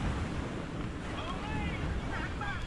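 Strong storm wind roars and buffets the microphone while waves wash nearby, a continuous loud rushing blast with surging, crashing water and faint voices in the background.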